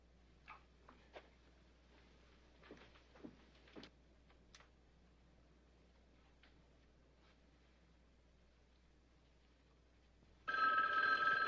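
A telephone starts ringing near the end with a loud, steady electronic bell ring, after a long quiet stretch of faint ticks, clicks and soft movement.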